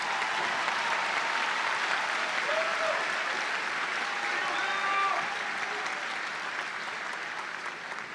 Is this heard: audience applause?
yes